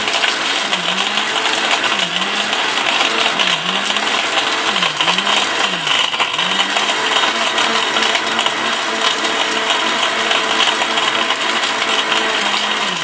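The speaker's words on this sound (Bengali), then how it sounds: "আর এদিকে কিন্তু ব্লেন্ডারটা দেখেন" A Miyako electric blender runs steadily and loudly with a constant motor whine, its pitch wavering slightly in a repeating pattern, with no talk over it.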